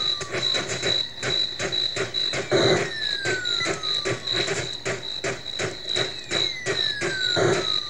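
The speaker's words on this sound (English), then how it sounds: "that's super convincing crickets, though" Crickets chirping in a PC Engine CD-ROM video game: a steady, rapidly pulsing synthetic chirp that runs throughout, layered with sweeping game tones and effects.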